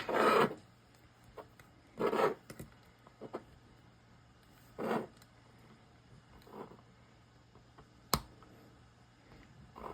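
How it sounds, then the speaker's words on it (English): A razor blade cuts and scrapes excess clay from around a stamp cutter in several short rasping strokes, close and crisp, separated by quiet pauses and one sharp click. "take a razor blade and hold your cutter in place and cut around the edge to remove your excess clay"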